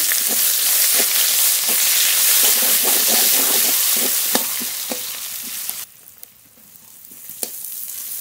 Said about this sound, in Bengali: পেঁয়াজটা হালকা করে একটু ভেজে নিয়েছি।